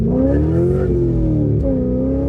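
A car fitted with a VARARAM VR-B2 intake revs with a deep, droning engine note that rises and holds close and loud, with no talking over it.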